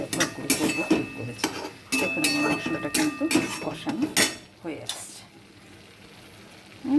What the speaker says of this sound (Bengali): দেখেছেন মশলাটা বেশ ভালো কষানো হয়ে আসছে।